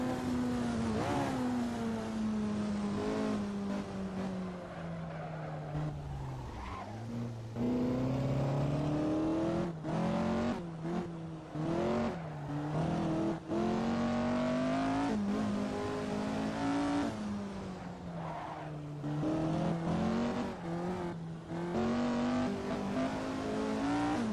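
A race car engine roars continuously at high revs on the old Singapore Grand Prix circuit, pitch rising and dropping sharply with gear shifts and braking as it laps, loud and close throughout.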